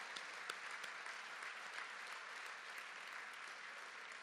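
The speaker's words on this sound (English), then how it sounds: "how about another round of applause for not only the winners, but anybody who was nominated tonight" Steady applause from the audience at an annual awards ceremony for the winners and nominees, faint and distant, a continuous wash of clapping with no talk over it.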